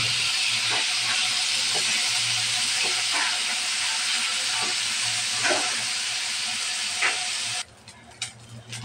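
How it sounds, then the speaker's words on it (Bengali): Small fish lightly fried in hot oil in a pan make a loud, even sizzling hiss with a few faint clicks, close by and without talk, before cutting abruptly near the end. "তেল গরম হয়ে গেল, এখন মাছটা আমি হালকা ভেজে নেব"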